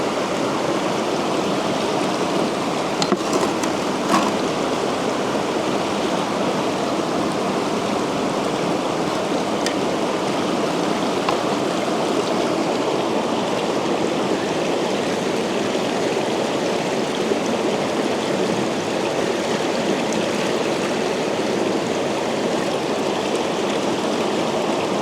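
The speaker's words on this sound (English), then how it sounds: "So I'm going to let this sluice run down the materials till I see less coming out." Water rushes through a gold panning sluice set in a stream, a constant, full, close wash of running water with no breaks.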